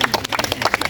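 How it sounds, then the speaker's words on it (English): People clap at a bonfire night gathering at a summer camp, a short burst of dense, scattered handclaps that sounds close and lively. "And just clap for yourself."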